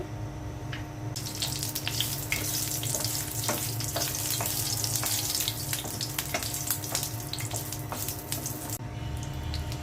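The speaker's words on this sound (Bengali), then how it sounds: "সরিষার তেল দিয়ে দিচ্ছি শুকনো মরিচগুলো তেলের মধ্যে দিয়ে দিচ্ছি" Dried chillies fry in mustard oil with a steady, dense crackle and sizzle that carries on alone, close up and fairly loud, with a few sharper pops.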